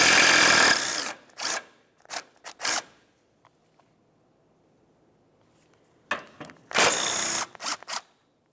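A power tool removes 12mm bumper bracket bolts on a 2006-2011 Honda Civic, giving several short whirring bursts with quiet gaps, then a pause and a final cluster of close bursts.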